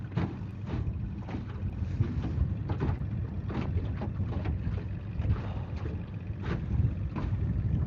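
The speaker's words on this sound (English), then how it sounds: "We have a bit of wind here today." Wind at Holter Lake during winter ice fishing, a steady rumbling buffet against the microphone with gusty surges throughout.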